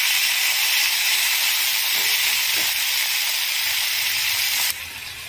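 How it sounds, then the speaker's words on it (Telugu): Fresh coriander leaves sizzle in hot tempering oil with cut green chillies for a Telugu tomato-coriander chutney, a steady close hiss that drops suddenly in level near the end. "ఇలా పోపు రెడీ అయిన తర్వాత మనం శుభ్రం చేసుకున్న కొత్తిమీరని యాడ్ చేద్దాము."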